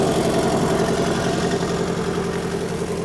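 A turbocharged car engine settles into a steady idle, with an even low rumble and a regular pulsing throb that runs close and loud throughout.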